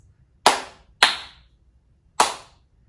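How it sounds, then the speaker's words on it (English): Three sharp hand claps ring out alone in a rhythm of quarter note, half note, quarter note: two close together, a longer gap, then the last, each crisp and loud with a short decay. "I'm going to clap a rhythm that is 1 quarter note, 1 half note, and then a quarter note"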